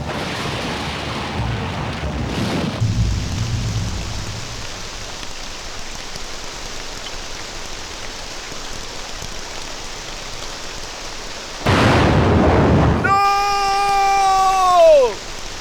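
Steady heavy rain hisses throughout, with a low rumble of thunder early on. Near the end, a louder surge of noise comes with a descending tonal wail.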